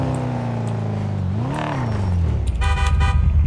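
A Mercedes car in GTA roleplay pulls up close with a steady engine note that dips and rises, then a burst of horn honking at the end.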